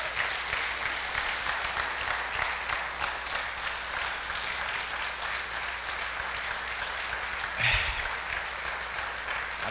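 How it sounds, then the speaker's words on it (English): A church congregation at a Sunday service applauds steadily, a dense sustained wash of many hands clapping throughout, with a brief thump and shuffle partway through. "So let's give a round of applause."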